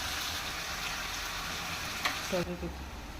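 Hot tempering hisses into simmering Andhra-style horse gram soup (ulavacharu) with a steady, moderately loud sizzle. Near the end the sizzle cuts off sharply and a few short stirring clinks follow.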